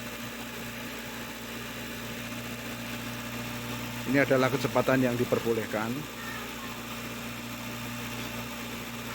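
A Wuling Confero car engine runs at a steady low idle hum, with someone talking briefly over it midway.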